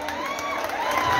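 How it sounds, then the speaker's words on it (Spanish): Comedy show crowd applauding and cheering for comedian Ariel Torres, a loud, continuous wash of clapping and voices. "Hay un aplauso para Ariel Torres."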